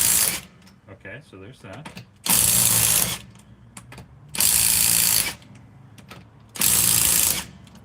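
An impact wrench loosens tight brake lug nuts during a brake swap, firing three loud, sustained rattling bursts of about a second each, separated by quieter handling noise and brief talk.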